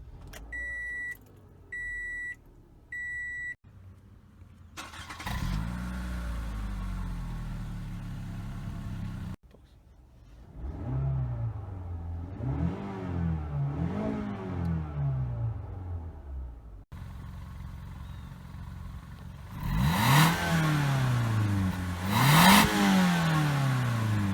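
A 2013 Toyota Camry SE with its muffler still fitted, heard as repeated engine revs rising and falling in short bursts, interspersed with a few electronic beeps at the start, fairly quiet overall with no speech.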